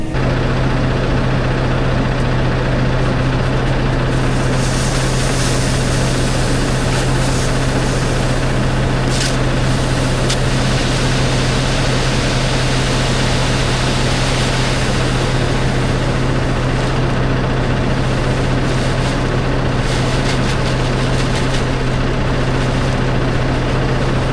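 A farm tractor runs steadily while spreading fertiliser across a field, a loud, constant low engine drone with a strong hum and rough mechanical noise, close by and unbroken, with no voices.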